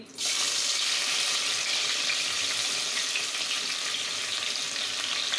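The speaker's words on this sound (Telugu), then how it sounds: "దీన్ని చక్కగా ఈ ఆయిల్ అండ్ గీలో ఫ్రై చేసుకున్నాము" Onion, green chili and coriander fry in oil and ghee for chicken dum biryani, a loud, steady sizzle that starts abruptly and holds unbroken to the end, with no talking.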